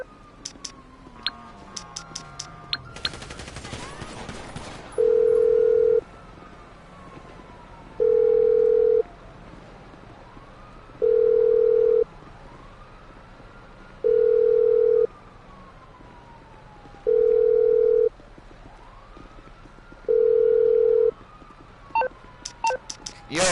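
Telephone dial tone and keypad dialing: quick beeps at the start, then a repeating tone pulsing at a steady rhythm over a low background hum, ending with another burst of short beeps.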